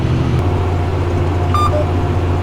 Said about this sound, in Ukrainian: Комбайн їде, захвачуючи 10 рядків цибулі.